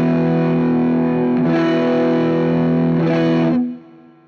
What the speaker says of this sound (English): Here is the tone of the pedal with the voice switch in the stock position.